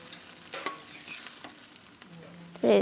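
Chowmein tossed with sugar in a frying pan, a quiet sizzle broken by a few sharp utensil scrapes and taps, ending in a louder clattering stir.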